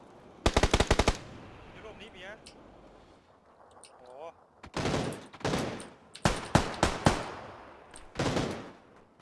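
Loud rapid bursts of automatic gunfire in PUBG, a sharp volley near the start and several more clustered volleys later, separated by quieter stretches with people talking.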